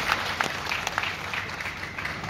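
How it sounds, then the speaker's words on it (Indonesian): Steady applause from an audience for officials at a podium speech during a bank's 60th anniversary ceremony: many hands clapping together in a continuous, fairly loud wash with no talking over it. "Kita tepuk tangan buat"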